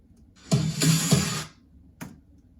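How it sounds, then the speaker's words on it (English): A short electronic drum fill in a future bass track made in Logic Pro X, a quick cluster of snappy snare and tom hits lasting about a second, then one final isolated hit. Close, punchy and without any voices. "at the end of every 2 bars, I have this drum fill"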